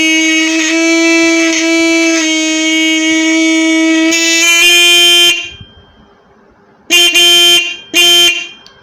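An old motorcycle horn before adjustment, sounding low-pitched and buzzy: one long loud continuous blare for about five seconds, then two short honks after a pause, close and alone.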